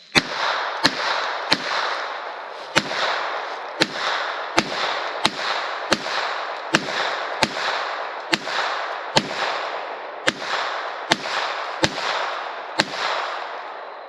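A Chiappa M4 .22LR rifle fires tracer rounds in a steady, evenly spaced string of about twenty sharp, snappy shots, close and loud with short ringing tails and nobody talking.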